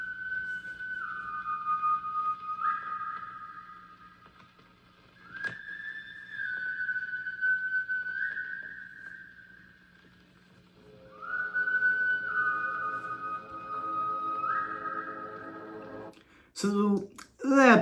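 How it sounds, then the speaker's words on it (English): A sinister, eerie whistled melody from a horror film soundtrack glides between sustained notes and rises and falls slowly. It sounds clear and fairly close, fades briefly near the middle, and ends in a few sharp clicks. "that was just a sinister whistle that's kind of just following them for like the whole movie"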